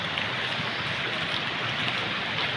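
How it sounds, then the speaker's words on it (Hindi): Water from the Salgi river flows over a bridge, a steady, loud broadband rush of water that stays even throughout with no voices over it. "ये पुल के ऊपर से ही जल बह रहा है"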